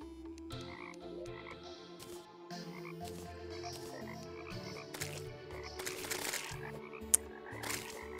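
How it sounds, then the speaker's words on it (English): Gold frogs croaking in Terraria, a dense chorus of repeated croaks layered over steady game music and effects, with no talking. "Thanks to the gold frogs."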